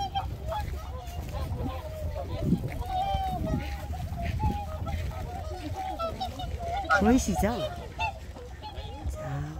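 A large flock of migratory swans on their wintering grounds honking and calling together, many overlapping calls at moderate distance, with a person talking over them.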